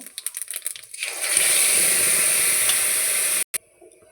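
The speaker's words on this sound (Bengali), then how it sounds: "তো আর যে পেস্টটা করেছি সেই পেস্টটা দিয়ে একটু মশলাটা কষিয়ে নেব।" Spice paste hitting hot mustard oil in a wok bursts into a loud, steady sizzle after a few light scraping taps, frying close and continuous before cutting off abruptly.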